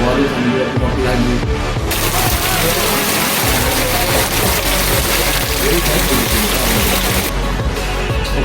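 Heavy rain pours down near a roadside warung in Bogor, West Java: a loud, dense, constant hiss and patter on surfaces, with voices faintly mixed in.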